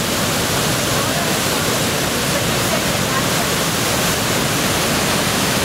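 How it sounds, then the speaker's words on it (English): Steady broadband roar of a waterfall at a gorge in North Carolina, loud and continuous throughout with no break, no voices cutting through the dense rush of falling water. "One last shot of the waterfall."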